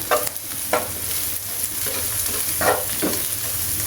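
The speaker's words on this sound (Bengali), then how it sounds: "সবগুলা উপকরণ একসাথে নেড়েচেড়ে নেবেন" A spatula stirs prawns and ground chili, coriander and cumin through water spinach in a hot pan, with several brisk scraping strokes over a continuous sizzle.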